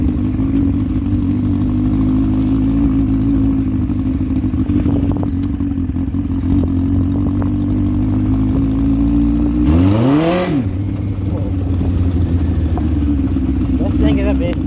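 A Yamaha Fazer 1000cc motorcycle being ridden, its engine droning loud and steady with a brief rising rev near the end, while a person talks over it.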